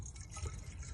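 Water pours steadily into a Land Rover coolant reservoir with a continuous gurgling trickle, close by and alone.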